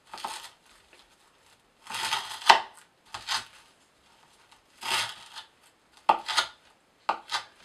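A Spyderco Manix 2 knife with a 154CM blade saws through rope in separate short bursts of rough, fibrous rasping, close up and fairly quiet, with pauses between strokes.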